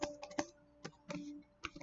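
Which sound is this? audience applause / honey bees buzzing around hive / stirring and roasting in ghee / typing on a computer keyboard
typing on a computer keyboard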